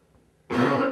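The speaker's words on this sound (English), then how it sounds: "that's me coughing" A single close, harsh cough bursts out after a brief quiet moment and rasps on to the end.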